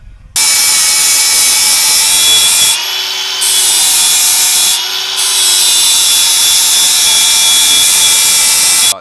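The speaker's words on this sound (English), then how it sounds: "I'm gonna just grind out these welds and remove this mount" A power grinder cuts out welds to remove a mount from a strut on a VW Transporter van. The whine is loud, continuous and harsh, and it dips briefly twice as the tool eases off the metal.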